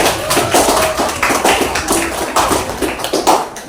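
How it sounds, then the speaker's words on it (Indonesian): A classroom of students claps for a classmate, the sharp, uneven hand claps bursting at near range with a slightly ragged rhythm and no voices over it. "Tepuk tangan dulu untuk kawan kita Bini."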